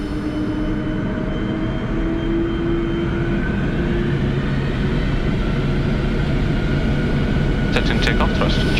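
Boeing 747-400 engines spooling up to takeoff thrust, heard from the cockpit as a loud, continuous roar with rising whine tones and a brief clatter near the end.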